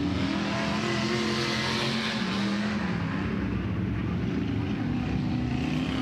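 Sprint race cars run laps on a dirt oval at Tulare Thunderbowl Raceway, engines roaring continuously and loud throughout, a steady high-revving drone with no break.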